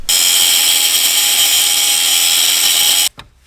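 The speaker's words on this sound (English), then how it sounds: "we're gonna take these two metal security bits right here, cut a slit in them, and they should just unscrew" A power tool cuts slits into two metal security bits on an ECU bracket in a Mk6 GTI engine bay, a loud, steady high-pitched grinding whine held for about three seconds before cutting off abruptly.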